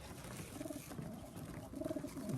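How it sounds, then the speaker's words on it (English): Pigeons in a loft give soft, low cooing calls in short repeated phrases, faint and close against a quiet background. "I've got 14 birds here"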